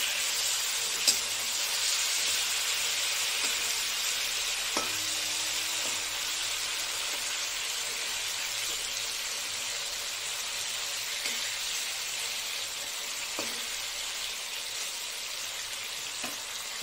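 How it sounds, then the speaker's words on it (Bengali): Hilsa fish pieces frying in oil in a pan give a steady, close, even sizzle that hisses on without pause, with no voices. "আমার এটুকু ভালোই ভাজা হয়ে গেছে।"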